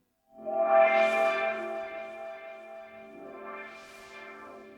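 A sample triggered on a Polyend Tracker Mini groovebox, a sustained harmonic tone with echo and distortion that swells, fades, then returns in a second softer bloom, heard alone.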